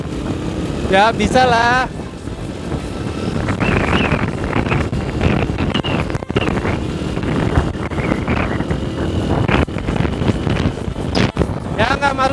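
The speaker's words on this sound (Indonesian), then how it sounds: "sekarang kita tes apakah Honda Win ini bisa ngebut" An old Honda Win motorcycle is ridden fast in the rain, its engine note rising and wavering under heavy wind rush while a rider talks briefly.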